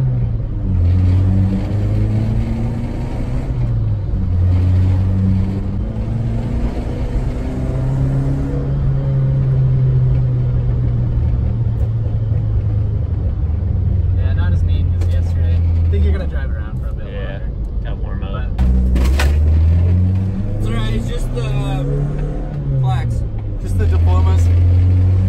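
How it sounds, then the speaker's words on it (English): Toyota Corolla with a newly fitted aftermarket exhaust revs repeatedly, loud rising and falling engine drones with rumbling burbles between pulls, and people talking over it. "Alright, I'm gonna try to get some backfires. Little what? A few little burbles."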